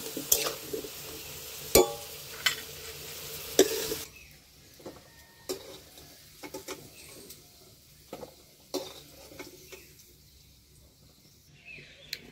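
Fried potatoes lifted from hot mustard oil: a loud sizzling hiss at first that cuts off abruptly, followed by sparse scraping and clinking of a utensil against the pan with quieter crackles between.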